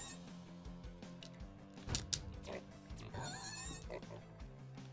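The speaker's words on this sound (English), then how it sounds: "The pig is down." Pig grunts and oinks from an enemy in the video game Epic Dumpster Bear 2, a few short bursts over a steady game music loop, with a louder hit sound near the middle.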